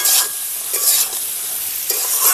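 Green jackfruit and potato with sugar sauté in a pan for a Bengali jackfruit curry. A loud, continuous sizzle swells with repeated stirring scrapes.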